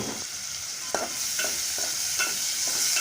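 Small cleaned shrimp hit a pan of fried spice paste for pumpkin with shrimp and beans, a loud steady sizzle with several spatula stirs and scrapes spaced through it, close up and without talk.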